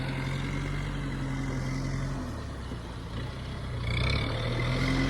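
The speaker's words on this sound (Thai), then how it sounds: "รถไถเขาเราก็จ้างมา จ้างไถก่อนแล้วก็ มีน้ำแล้วเราค่อยให้เขามาปั่น" Hired tractor rotary-tilling a flooded rice paddy for broadcast seedling planting, a steady low engine drone holding throughout, easing slightly midway then swelling louder near the end, with no voices.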